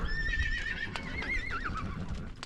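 Horses whinny during an Old West horse drive, with a long, wavering neigh rising over a steady rumble of hooves and the herd on the move.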